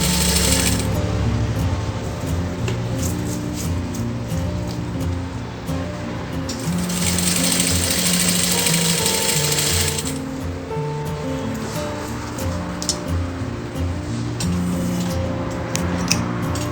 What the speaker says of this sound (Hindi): Stretch your elastic and give the stitch line.